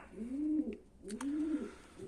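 A male homing pigeon coos twice, low rolling calls close by with a brief pause between, some faint clicks in the background.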